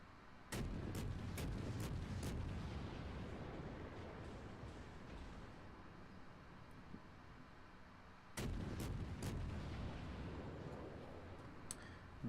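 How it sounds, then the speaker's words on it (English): Booming launches from a destroyer in a naval video game, a quick burst of several sharp reports followed by a long rumbling tail, then another cluster of shots near the end, with no talk. "Now turn around and fire the torps on the other side."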